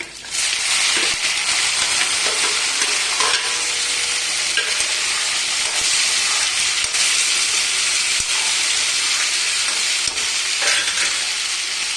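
Kachri frying in hot oil with cumin and fennel seeds for a Rajasthani kachri sabzi, giving a loud, steady, close sizzle that holds unbroken throughout.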